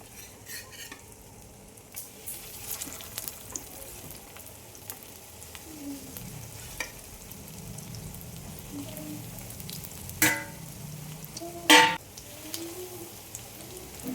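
Beetroot cutlets shallow-fry in a pan with a little oil, a soft steady sizzle under scattered clicks and scrapes, with two louder metallic clinks near the end.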